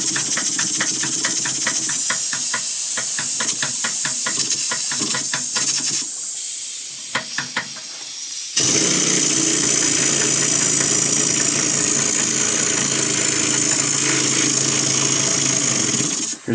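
An Alexander Karnes model steam engine runs in a workshop, a loud continuous hiss with rapid rhythmic chuffing beats early on, then a steadier roaring steam rush that carries on to the end.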